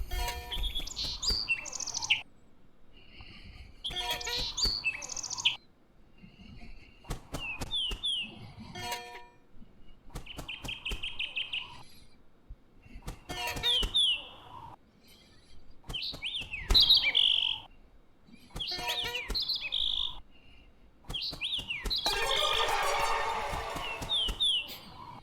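Bird chirps and tweets inside the video game Fable, sounding in short repeated bursts with pauses between, fairly close and clear, with a denser flurry of calls near the end.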